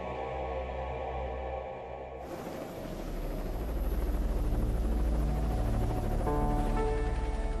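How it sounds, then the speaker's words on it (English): A steady mechanical drone swells into a loud, dense rotor roar of a Coast Guard search and rescue helicopter, a continuous thrum, with no voices. "Search and rescue helicopters are immediately dispatched from Coast Guard stations."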